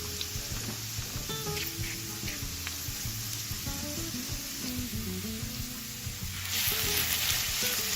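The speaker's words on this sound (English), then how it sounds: "so that the carrots can cook a bit and the onions can also cook but not burn" Onions and carrots fry in a pot over medium-low heat, a steady close sizzle with crackles and light stirring clinks, the hiss swelling louder toward the end.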